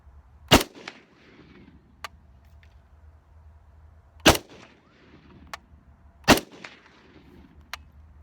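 Three sharp, loud PTR-91 rifle shots fired outdoors at long range, spaced a couple of seconds apart, each with a short echoing tail. Fainter distant pops sound between them.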